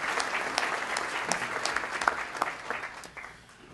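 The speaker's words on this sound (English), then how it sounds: "A round of applause, please," Audience applause at a State of the City 2021 event for mayor pro tem Sonny Park, a steady wash of clapping from a sizable crowd that fades near the end.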